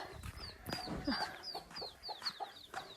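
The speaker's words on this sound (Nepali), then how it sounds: "ला कुखुरा त बान्नु भएको रहेछ नि त" Several chickens cluck and chirp softly at a moderate distance, with short repeated calls scattered across the clip.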